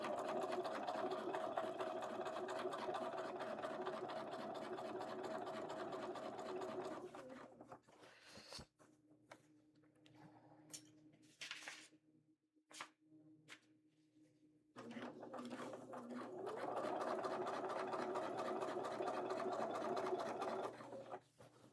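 A sewing machine stitches cosplay pants in two long steady runs of rapid whirring, separated by a quieter pause with scattered clicks and handling sounds.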